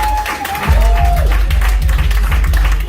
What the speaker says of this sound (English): Please give a big round of applause for your contestants for this evening.